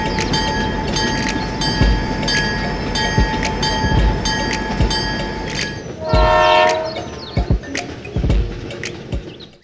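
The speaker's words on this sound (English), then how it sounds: "The train continues its journey." A toy train runs beside a miniature concrete bridge, giving a steady rumble with rhythmic clicks and a sustained horn-like tone. The horn-like tone breaks off midway, and a brief, brighter burst of sound follows.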